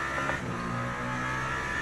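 Steady engine drone of a Cadillac race car in the Le Mans Ultimate racing game, a constant tonal hum at moderate level with no talk over it.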